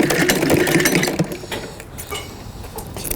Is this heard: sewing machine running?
yes